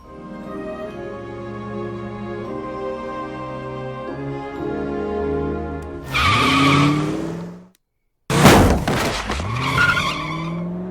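Tires screech as a car in the Family Guy cartoon skids and strikes a man, a loud squeal rising over background music, followed by a brief silence and then another harsh, noisy burst.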